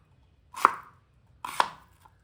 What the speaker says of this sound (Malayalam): സവാള ഒന്ന് കട്ട് ചെയ്തെടുക്കാം